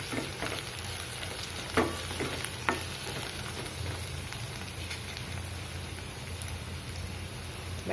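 Onion, cumin and a large diced potato fry in a pan for potato spinach sabzi, a steady close sizzle with a few sharper crackles and stirring clinks, no voices.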